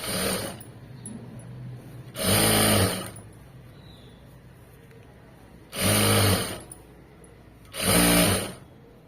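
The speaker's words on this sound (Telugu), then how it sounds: "ఇక్కడ కూడా అంతే స్టిచ్ వేసేయండి" A sewing machine stitches a fabric border in three short, loud bursts of rapid whirring, separated by quiet pauses while the cloth is repositioned.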